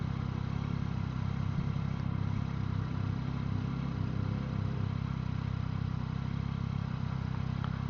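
A Yamaha R9 motorcycle engine holds high revs while riding, a steady, loud mechanical drone with a rough clattering edge under wind noise, continuous throughout.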